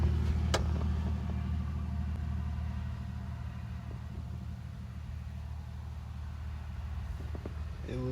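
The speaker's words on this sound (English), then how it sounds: "Comes the loud truck." A loud white truck rumbles past on a windy roadside, its low engine roar strongest at the start and fading steadily as it moves away, with no talking over it.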